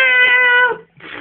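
A person mimics a cat's meow with one drawn-out, whiny, cat-like call, loud and close, followed by a brief breathy noise.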